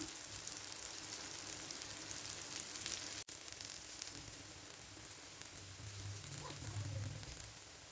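A sweet potato cutlet fries in a pan over a low flame, giving a steady soft sizzle and faint patter throughout, with one brief clunk midway and no voices.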